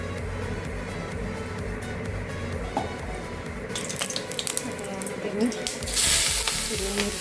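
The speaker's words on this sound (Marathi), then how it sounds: "कढई तापलेली आहे तोपर्यंत मी बटाटे कापून घेते आता मी याच्यामध्ये तूप ॲड करते" Ghee dropped into a preheated kadhai, starting a steady sizzle that grows louder and brighter near the end, with faint kitchen clatter and no talking.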